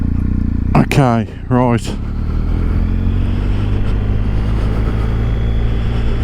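A BMW R1250 GS motorcycle on the road gives a steady engine drone and wind rumble, close and loud, while someone speaks briefly near the start.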